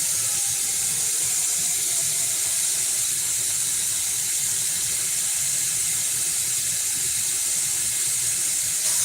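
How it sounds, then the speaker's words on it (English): Tap water pours steadily into a cooking pot for spaghetti, a continuous close rushing hiss with no pauses and no talking. "So we're gonna get a pot. We're gonna fill it up with some water."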